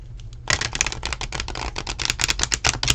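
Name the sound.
shuffling oracle cards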